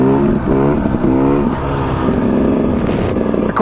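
A KTM 300 XCW two-stroke dirt bike on a snowy logging road revs in short rising bursts and then settles into a steady buzzing drone, loud and close, with no voices.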